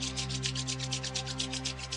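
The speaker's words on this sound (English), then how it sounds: "Rub your palm together" Palms rubbed briskly together during a yoga routine, a soft, steady rhythmic swishing friction with rapid back-and-forth strokes, close and continuous over a constant low background hum.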